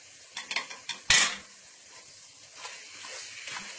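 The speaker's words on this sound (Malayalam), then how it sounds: "നന്നായി മിക്സ് ചെയ്യാം ചിക്കനിലെല്ലാ മസാലയും പിടിച്ച് വരുന്ന പോലെ തന്നെ നന്നായിട്ട് മിക്സ് ചെയ്തെടുക്കാം" Chicken being stirred with masala in a pan for Palakkad biryani, with a soft scraping and sizzling texture, one sharp clatter, and quiet frying underneath, close and without talk.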